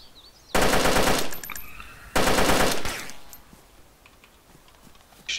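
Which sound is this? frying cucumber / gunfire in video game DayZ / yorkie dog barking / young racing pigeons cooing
gunfire in video game DayZ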